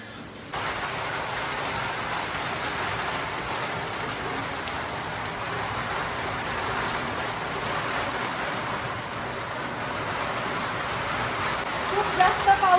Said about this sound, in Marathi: खूप जास्त पाऊस आहे.